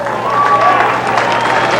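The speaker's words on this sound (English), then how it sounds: "the crowd responding to this great field of champions" A grandstand crowd at a greyhound Race of Champions at Rayhnam in 1987 roars in a steady, loud wash of cheering and applause, with thin whistles rising above the continuous noise.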